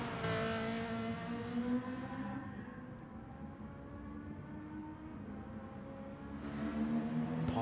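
Race cars, an Audi among them, run in a video game touring car race at Sardegna or Tokyo: steady engine drone with rising and falling pitch, then louder revving near the end.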